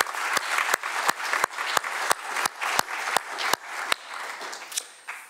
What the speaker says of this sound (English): So please take a moment and help me thank them with some applause.